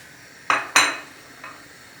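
A spoon clinks against a pot while aşure pudding with figs, apricots and raisins is stirred, giving two sharp knocks close together followed by a fainter third tap, quiet and alone.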